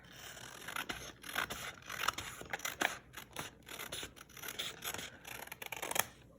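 Scissors snip through paper for a junk journal in a quiet room, a close run of short crisp cuts and rustling paper scrapes in an irregular rhythm, with no talking.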